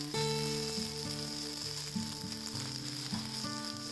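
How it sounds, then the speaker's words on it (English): Carrots and peas, softened from boiling, sizzle steadily in a pan while being stir-fried, a continuous close frying hiss with soft scraping movements and faint tonal hum underneath, no voices. "The carrots and peas, now soft from the boil, go into the pan, ready to be stirred to life again."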